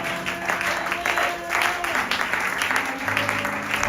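A church congregation applauds, a dense burst of clapping that fills the space for a few seconds, with voices mixed in.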